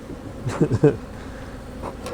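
Honey bees buzz around close by at a hive, a soft droning hum with a few louder bursts as they pass near.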